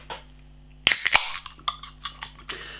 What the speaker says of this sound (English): Nice bit of smoke on the can opening.